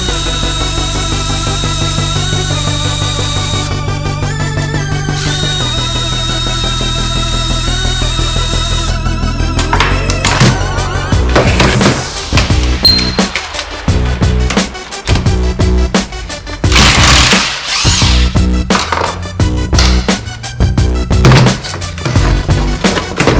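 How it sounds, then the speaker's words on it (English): An impact gun removes the front sprocket bolt on a Honda CBR900RR. A steady tonal backdrop comes first, then loud, close bursts of rapid rattling hammering that start and stop repeatedly. "we'll take the front cover off, just gun off the bolt."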